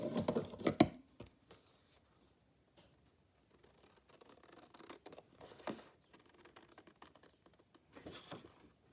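Scissors snip through paper while a mini matchbook album is cut out and trimmed, giving a few close, crisp cuts at the start, then quieter scattered snips and paper rustles.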